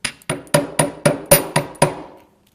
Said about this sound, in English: I'm just going to use a steel block now and a hammer, and this will work harden those ends.